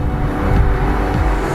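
A BMW M8 Competition driven through a corner, its engine giving a loud, steady, deep drone from inside the car with slight swells in throttle.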